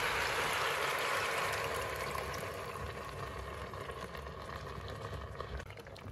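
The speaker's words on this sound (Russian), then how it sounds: "Заливаем все тертыми томатами." Grated tomatoes are poured into a pot of chakhokhbili, a steady wet gushing and sizzling pour, close and continuous, easing slightly toward the end.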